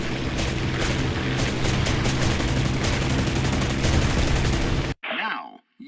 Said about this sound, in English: Your machine gun.